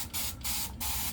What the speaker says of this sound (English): it is hard to spray this water on both of these